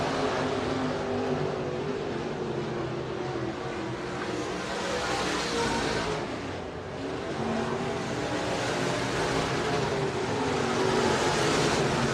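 SportMod race cars in a heat race at Buena Vista Raceway, a steady broad roar of engines heard from a distance that swells and dips slightly as the cars come down the backstretch.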